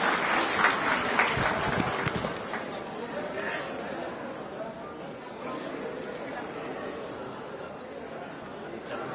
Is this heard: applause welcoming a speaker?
yes